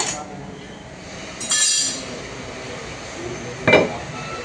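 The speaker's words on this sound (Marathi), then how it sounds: "तवा ठेवला. हा जाड लोखंडी तवा आहे ना?" A thick iron tawa set down on a gas stove, giving two short metallic clanks a couple of seconds apart over quiet background.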